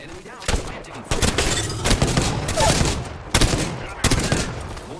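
Gunfire in the Apex Legends video game comes as loud, sharp bursts of shots in several separate volleys, with rumbling between them, close and dominant throughout.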